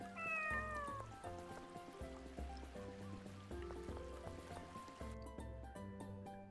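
A cat in the Tales of the Abyss game gives a short meow at the start, then game music and water-like ambience carry on.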